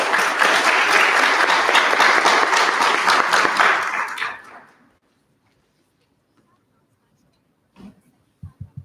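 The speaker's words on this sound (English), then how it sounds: "Please give a round of applause." Loud, dense audience applause at a 2021 cosmetology graduation ceremony, sustained for about four seconds before fading to near silence, followed by a few faint knocks.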